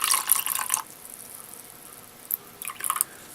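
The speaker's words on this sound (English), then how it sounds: "Now the water I'll put in there." Water poured into an acrylic paint mix, a short splashy pour at the start, a quiet gap, then a second brief burst of trickling and dripping, fairly close.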